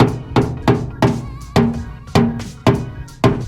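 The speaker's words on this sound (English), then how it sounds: "Now let's take a little bit of a hammer to it." A hammer strikes the vinyl-wrapped paint of a new Corvette Z06 about eight times. Each sharp, ringing knock comes at a fairly steady rhythm, close and clear.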